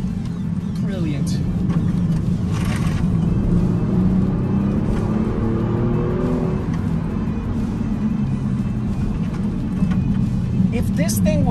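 A 2022 Kia Stinger GT or 2021 Ford Mustang on a test drive, its engine droning and climbing toward high revs through a corner, heard from inside the cabin with someone talking over it.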